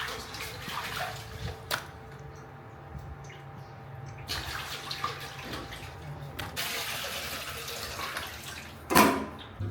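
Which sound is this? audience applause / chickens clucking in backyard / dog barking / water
water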